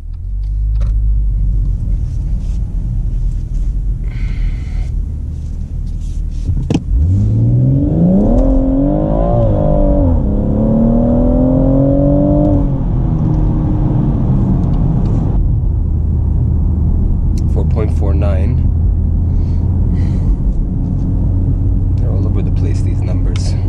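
BMW M140i accelerating hard on a timed drag run, engine note climbing through rising, stepped gear pulls with a loud, close interior rumble, then settling back to a steady drone.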